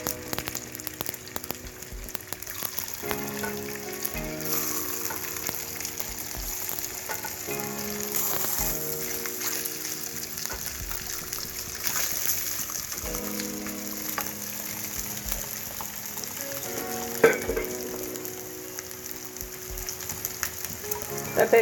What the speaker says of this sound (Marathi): अशी मोहरी तडतडूक लागली की आता आपण त्याच्यावर सगळे दिवशी मांडून घेतलो